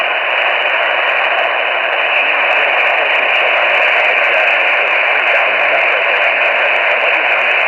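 An AM radio tuned to 890 gives off a loud, steady wash of hissing static as the station just begins to come in, with no clear voice breaking through.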